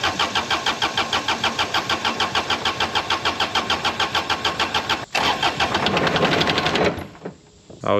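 An old lawn mower engine catches and runs briefly on the fuel left in its carburetor bowl, a loud rapid chugging beat for about seven seconds that stumbles, surges, then dies off near the end.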